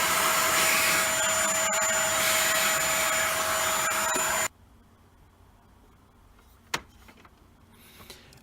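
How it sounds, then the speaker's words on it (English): A hoover vacuums inside an Ariston MicroGenus boiler, a loud steady roar with a whistling tone that cuts off abruptly after about four seconds, followed by faint handling clatter and a single knock. "I'm just going to give it a quick hoover."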